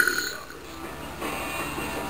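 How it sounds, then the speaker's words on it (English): A man lets out a burp up close, a short guttural belch in a room with low background noise and no talk. "I need to burp every second for the next like 10 minutes and get back."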